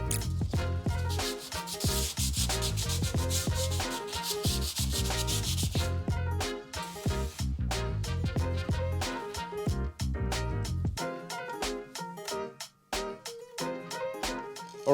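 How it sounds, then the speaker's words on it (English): A Honda CB 400 motorcycle body part being rubbed by hand with sandpaper, a continuous scratchy back-and-forth scraping in quick strokes, close and fairly loud, with short pauses between bursts and no talking. "just kind of sanded it down with whatever sandpaper I had laying around"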